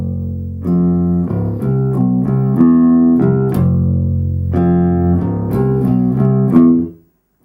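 A bass guitar run from a song: a quick connected series of deep, rounded plucked notes moving up and down, played alone and loud, then stopping abruptly.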